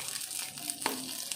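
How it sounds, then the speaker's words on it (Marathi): Green chillies roasting in a pan, a soft crackling sizzle with faint crinkling pops, quiet and close. "चांगलं ह्या मिरच्याला असं घेते भाजून."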